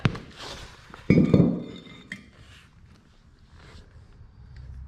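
Metal clinks and knocks as the hub and rotor come off a 1978-79 Ford Dentside Dana 60 kingpin axle, a sharp clank near the start, then a burst of louder scraping and rattling, fading to quiet shop noise.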